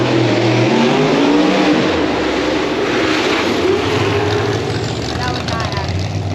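A race car engine drones loudly and steadily, its pitch shifting as it revs, with voices talking underneath.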